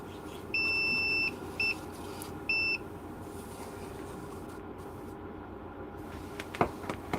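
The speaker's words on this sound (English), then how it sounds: "there's gonna be some beeping for a minute" Retro Macintosh repair brings short electronic beeps: a long steady tone, a brief blip, then another medium tone, clear over a faint background hum.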